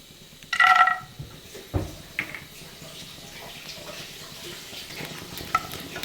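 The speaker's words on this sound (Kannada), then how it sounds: "ತುಪ್ಪ ಬಿಸಿ ಆದಮೇಲೆ ಗೋಡಂಬಿ ಹುರ್ಕೊತಾಯಿದ್ದೀನಿ" Cashews fry in hot ghee in a pan, with a sharp sizzle as they go in, then stirring scrapes and a soft steady crackle, fairly close.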